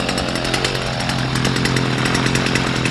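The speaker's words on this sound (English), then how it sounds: "just trim the tall grass that the lawnmower can't get" A loud, steady motorized whine of a string trimmer cutting tall grass close by, continuous with no pauses.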